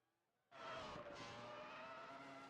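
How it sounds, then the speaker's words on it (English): Race cars roaring onto the track in a racing video game, an engine drone that kicks in abruptly and then holds at a steady, loud pitch, with no talking over it. "Cars on track."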